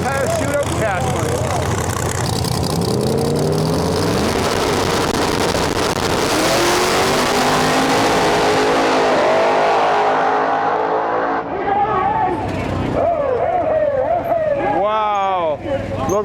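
Drag race cars, one a Firebird, roar through a small tire shootout final, their loud engines building to a sustained howl, then falling away as they pass. Voices call over the noise.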